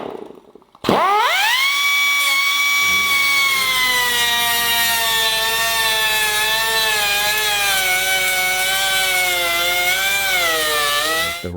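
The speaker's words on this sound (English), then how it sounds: "The Robert Bosch Tool Company makes specialized jigsaw blades for aluminum." A jigsaw fitted with an aluminum-cutting blade starts abruptly and runs loud and close in a sustained buzzing, rasping whine while cutting aluminum for a Land Rover Series 3 seat box, holding steady for about ten seconds.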